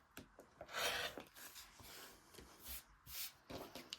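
Scissors or rotary cutter trimming the sides of a fabric quilt block, soft close rasping cuts in a few uneven bursts, quiet with no talk.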